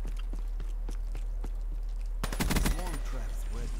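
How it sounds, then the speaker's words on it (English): Enemy gunfire in a multiplayer shooter video game: a few scattered faint shots, then a short rapid burst of automatic fire, fairly quiet and somewhat distant over a low background hum. "I hear him shooting."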